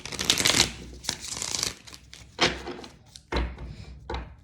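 Cards are shuffled in several quick riffling bursts with soft thumps between them, close by and fairly loud.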